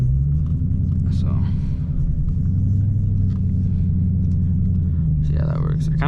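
Dodge Challenger 392 V8 engine rumbling steadily while driving, a deep, continuous low drone heard from inside the car, with a person talking over it.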